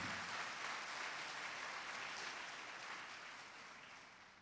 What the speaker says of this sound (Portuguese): Quem crê nisso, aplauda Jesus comigo nesta noite memorável